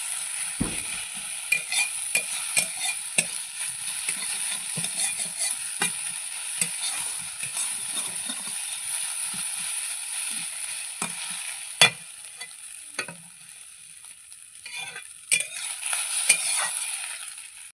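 Fish roe fries with onion and chili in a pan, a steady sizzle broken by repeated scrapes and clicks of a spatula stirring, close and with no talk.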